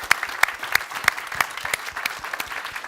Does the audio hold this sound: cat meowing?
no